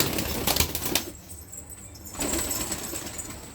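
Pigeons take off from a balcony coop with a short flurry of flapping wings, close by, then quiet before more soft fluttering and rustling.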